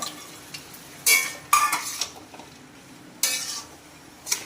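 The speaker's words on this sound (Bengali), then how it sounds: "সুন্দর করে এখন নাড়ানো নোড়ানো চলছে।" A spoon stirs papaya and chickpea curry in a frying pan, giving a few sharp scraping knocks with quiet sizzling between them and no talk.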